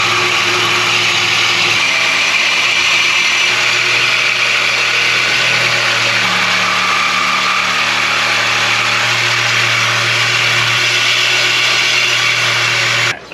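A cheap Harbor Freight saw, bought for about 24 dollars, cuts through a car body with a continuous harsh, buzzing whine and steady motor drone, loud and close, running unbroken for over ten seconds.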